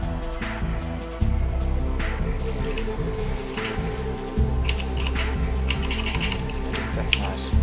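Computer keyboard keys clatter in quick irregular bursts close by, with brief pauses, under a low steady background hum.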